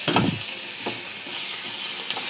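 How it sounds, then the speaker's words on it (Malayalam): Chili, onion and tomato fry in a pan, with a close scrape of stirring at the start and then an even sizzling hiss, a few faint stir taps along the way. "ഫസ്റ്റ് മുളക്, ഉള്ളി, തക്കാളി കുറച്ച് നന്നായി ഫ്രൈ ചെയ്യുക"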